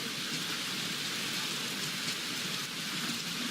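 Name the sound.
rain falling in the video game BeamNG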